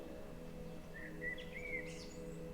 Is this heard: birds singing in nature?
yes